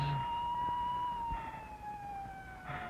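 A distant ambulance siren wails in a long, steady tone over low background rumble, with no voices.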